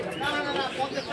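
Pigeons coo and chatter at a crowded pigeon market in Rupdia, Jessore, with overlapping bird calls close by under steady background voices.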